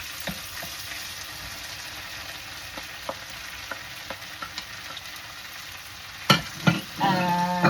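Mushrooms frying in a pan, a steady close sizzle with light ticking spatters, ending in a few loud clanks and scrapes of a utensil against the pan.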